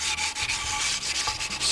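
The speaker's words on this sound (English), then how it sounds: "This is actually 180 grit paper, not very much sanding. You just scuff it up" Engine center cases on a GasGas trials motorcycle scuffed with 180 grit sandpaper on a flat sanding block, a steady close raspy rubbing with rhythmic back-and-forth strokes and no voices.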